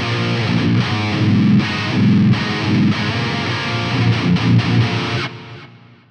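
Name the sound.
high gain LTD guitar, open tuning, Fractal AX8 scene 1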